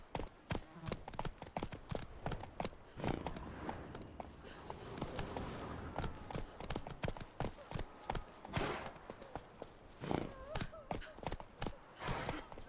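Roach the horse in The Witcher 3 trots along with steady, close clip-clopping hoofbeats in a brisk rhythm, with a voice speaking briefly over it.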